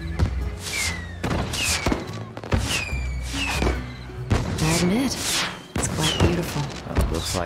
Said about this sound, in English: Looks like the fireworks crew lost the schedule.